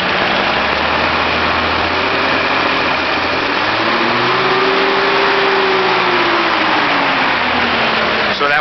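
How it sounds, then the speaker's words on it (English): A rebuilt Toyota Land Cruiser 2F engine runs on a test stand, a steady close, loud idle with a low rumble and a smooth rise and fall in pitch midway as the revs climb and settle, without knocking. "this engine sounds great. There's no knocking, which is always a concern"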